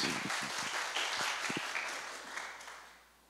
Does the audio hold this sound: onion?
no